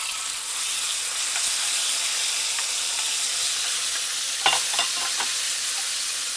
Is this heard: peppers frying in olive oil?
yes